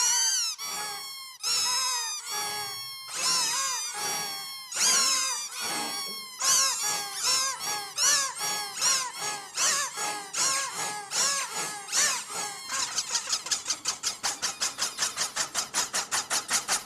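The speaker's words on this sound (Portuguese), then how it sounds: "Olha que legal o som que eles tiram apertando os brinquedinhos." Squeezed children's toys give a string of high, nasal squeaks, slower and spaced at first, then speeding into a rapid, even run of short squeaks near the end.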